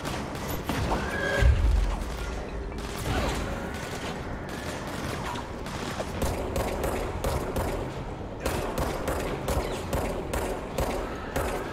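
Gunfire in the action game Control, with repeated sharp shots and bursts scattered across a busy, noisy mix, one heavy thump early on.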